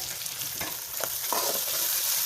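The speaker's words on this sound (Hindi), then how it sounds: "अच्छी तरह से मसाले को मिक्स करेंगे" Spices (turmeric, red chilli powder, crushed red chilli and salt) stirred in a hot pan for chicken-stuffed bitter gourd, sizzling steadily with a few soft scraping strokes of the spoon, close and alone.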